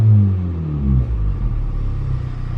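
A 2023 Honda Civic Type R with its exhaust valve fully open lets out a deep, loud, rumbling growl that swells and settles at a steady idle-to-rev drone, close up with no one talking.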